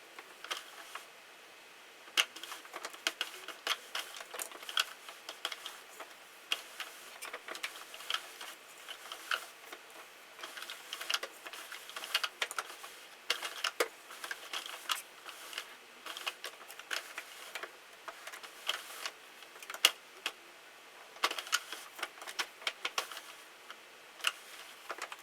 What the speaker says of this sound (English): I'm going to drop my yarn down in my machine and cast on as I normally